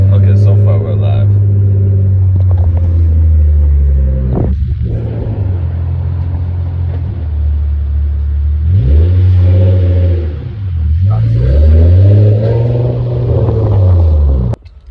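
A red Dodge Challenger SRT Demon's engine roars close up as the car drives, with deep rumbling revs that swell and fall in several acceleration bursts and a brief drop midway.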